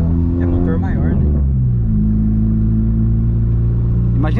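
A 1999 VW Gol G2 1.0 8V fitted with a 4-inch HKS exhaust revs hard nearby, a loud deep rumbling drone rising and then holding steady, with brief voices over the start.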